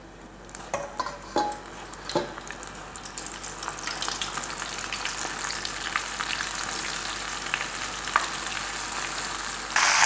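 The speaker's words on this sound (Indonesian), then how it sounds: "Kita mulai menggoreng." Steady crackling sizzle of battered calamari rings frying in hot oil, with a few utensil clinks early on and a continuous bubbling hiss throughout.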